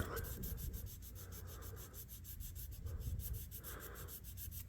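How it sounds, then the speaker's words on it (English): A WWII-era US Navy pilot's folding survival knife is lightly sanded by hand, giving a steady rhythm of quick, close scratchy strokes, soft and repeated evenly throughout. "I come out and I lightly sand on it, and a little bit more comes off"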